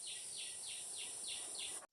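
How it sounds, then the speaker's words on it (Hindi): Birds chirp in a forest, sending out a steady series of bright, repeated high calls at a regular rhythm over a constant hissing background of insects, then stopping abruptly. "और जंगल में आने के साथ ही चिड़िया का चहचहाहट सुनिए।"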